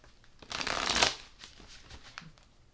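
A Runic tarot card deck is shuffled close by, a brisk riffle of about half a second followed by a few lighter card taps and slides.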